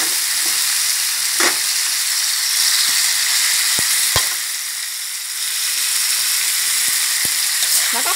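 Shark pieces stir-fried with curry paste and seasonings in a hot pan make a loud, continuous close-up sizzle. Sharp scrapes and knocks of stirring punctuate it, and the sizzle dips briefly midway.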